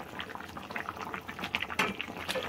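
A fish and vegetable curry with rohu fish bubbles in a pot, a soft close burbling of boiling liquid with scattered pops, quiet and without speech.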